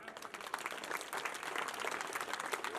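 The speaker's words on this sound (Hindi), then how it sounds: "इन बच्चों के लिए जोरदार तालियां आप बजाना" Faint, fairly distant applause rises and holds at a school annual function as the audience claps for the children, an uneven patter of many hands.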